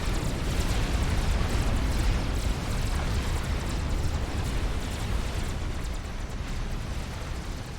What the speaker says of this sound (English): Ravager fire now opening up.